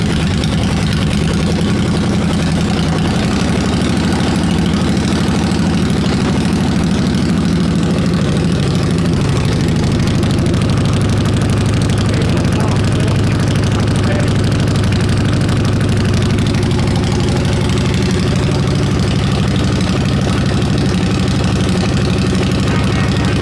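Custom K&N bobber motorcycle engine running steadily, a loud, continuous low rumble with a dense mid-range drone that holds unbroken and close throughout.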